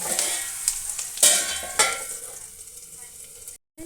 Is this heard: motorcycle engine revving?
no